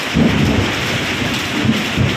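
Low rumbling thunder rolls under steady heavy rain, a continuous wash of noise with no voices.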